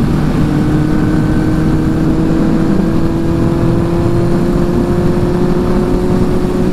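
A 1975 Honda CB550 motorcycle engine pulling steadily under throttle at highway speed, a loud, continuous droning hum with heavy wind rush, no voices.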